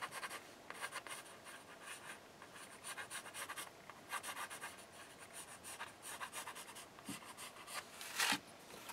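A pencil sketches a loose wing shape on canvas, soft close scratchy strokes in quick bursts and pauses, faint and alone with no talking.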